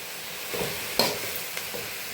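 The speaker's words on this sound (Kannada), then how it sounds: "ಇದು ಫ್ರೈ ಆಗ್ತಾ ಇದೆ." Banana flower frying in a pan, a steady sizzle with a sharper clatter of a utensil stirring partway through, no talking.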